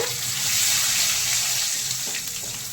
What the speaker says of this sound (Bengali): এবার এর মধ্যে দিয়ে দিচ্ছি রসুন কুচি রসুন কুচি দিয়ে দিলাম একটু ভাজা ভাজা করে নিয়ে